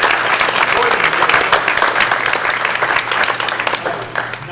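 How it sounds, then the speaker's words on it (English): A round of applause breaks out at a public information meeting on an elementary school merger, brisk, dense clapping from a crowd that swells and then tapers slightly toward the end. "I do think we should give these folks a round of applause."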